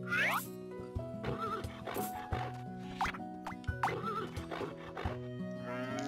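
A horse in the farming game Harvest Moon: Hero of Leaf Valley whinnies several times over a game music bed, with shrill rising neighs repeating every second or so.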